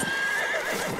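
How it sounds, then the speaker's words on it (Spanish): A horse ridden in the video game Battlefield 1 gallops with quick, thudding hoofbeats, and a short whinny rises over the fast, close rhythm. "me voy en caballo"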